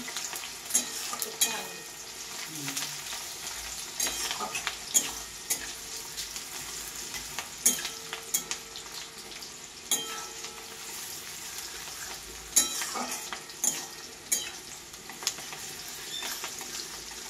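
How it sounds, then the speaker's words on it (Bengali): Two onions frying in hot oil for a mutton head curry, a continuous soft sizzle broken by frequent scraping stirs and occasional clinks of a utensil against the pan, no talk. "পেঁয়াজটা লাল লাল করে ভাজবো"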